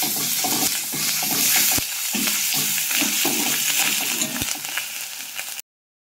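Ginger and garlic paste frying in a pan while chicken kosha is being made, giving a steady close sizzle with scraping stir strokes and a couple of sharp clinks, ending abruptly in silence.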